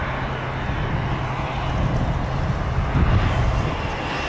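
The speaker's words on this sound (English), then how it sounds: "Beechcraft Premier 1 coming from San Francisco." A Beechcraft Premier 1 jet at Vancouver airport produces a broad, steady roar of engine noise mixed with wind, sustained and fairly loud throughout with no voices.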